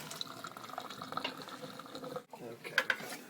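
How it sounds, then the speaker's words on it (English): Cold tap water runs over cooked cauliflower in a strainer, a faint, soft splashing trickle with a brief pause and a few small clinks near the end. "So we'll run a little cold water over them, cool them off"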